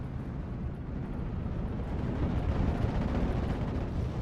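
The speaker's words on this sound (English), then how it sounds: "We got some mortar barrages trying to hit the Nebel Warfare." Mortar barrages in a World War II strategy video game rumble as a continuous deep, muffled roar of distant explosions, dense and low with no distinct individual blasts.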